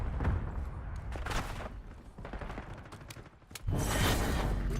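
Video game gunfire crackles in dense, rapid bursts, near and loud, dipping briefly before a heavier volley erupts toward the end.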